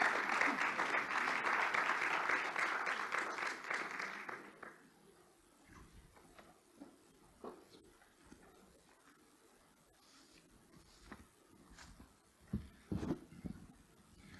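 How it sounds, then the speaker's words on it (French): Dense applause from an audience at an awards ceremony in Aix-Marseille fills the first few seconds, then fades into scattered claps, shuffling and room noise. "je vous demande d'accueillir sous vos applaudissements Didier Parakian"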